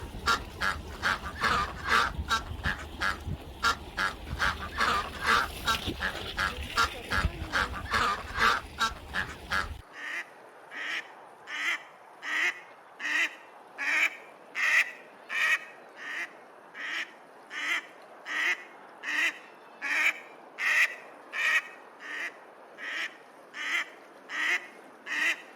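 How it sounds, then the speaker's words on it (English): Farm ducks quack in a steady, rhythmic series of loud, evenly spaced calls, about one per second, continuing throughout with a noisy background at first that then falls quiet. "duck, duck."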